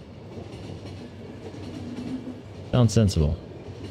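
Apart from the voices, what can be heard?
train running in the video game The Final Station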